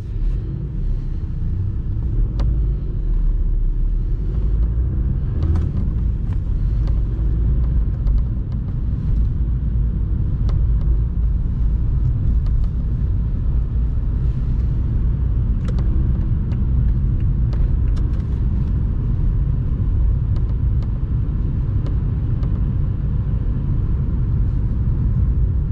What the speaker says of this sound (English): Good pulse, but little bit of turbo wag because of the bigger turbo of the hybrid turbo.